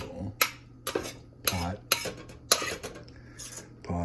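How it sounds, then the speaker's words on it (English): Pots, pans and cutlery clatter close by during home cooking, a run of sharp metallic clanks and scrapes coming in bursts about every half second, with a faint voice underneath. "Pots and pans"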